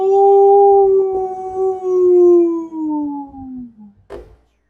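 A long, wavering howl that slowly falls in pitch over about four seconds, loud and close, ending in a short sharp noise; it is meant as coyotes howling in a Deadlands tabletop one-shot, with no speech over it.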